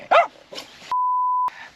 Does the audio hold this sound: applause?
no